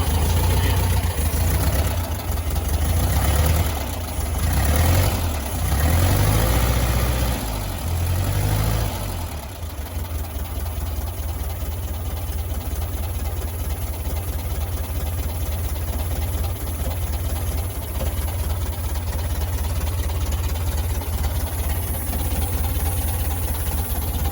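An old VW Beetle engine with a faulty choke idles with a rough, uneven low rumble, louder and lumpier at first, then settling into a steady ticking-over drone.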